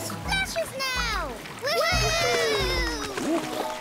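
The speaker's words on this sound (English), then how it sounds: "Yes, floaty ball splash!" A cartoon water splash from a floaty ball, set in an underwater play scene, with bright splashy sounds under excited children's voices and cartoon music.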